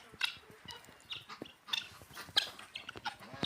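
Scattered soft clucks and chirps from guinea fowl and small chicks, close by, in irregular short bursts against quiet outdoor background.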